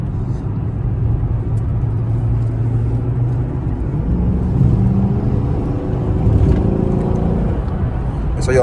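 Chrysler 300C with a V8 Hemi and stock exhaust pulling hard near a freeway exit, a deep rumbling engine note that rises steadily in pitch as it accelerates, loud and close throughout.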